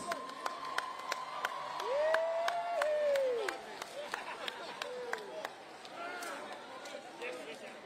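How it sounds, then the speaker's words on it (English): Crowd applause at a heritage dance performance event, a moderate spread of clapping with scattered cheers and background chatter, a few sharp individual claps standing out, fairly distant. "how about a huge round of applause for our volunteers"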